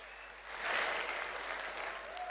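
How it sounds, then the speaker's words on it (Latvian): A crowd at a boxing event breaks into applause, the clapping swelling after a quiet start and holding at a moderate, steady level. "Pirmkārt aplausi pašiem sev!"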